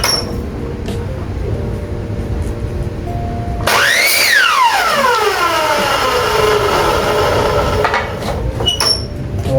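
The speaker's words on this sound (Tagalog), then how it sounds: "Tabi natin ulit itong circular saw. Pwede na tayo mag-cut." A circular saw's motor whines up sharply for a wood cut, then winds down in a long falling pitch, with steady background noise throughout.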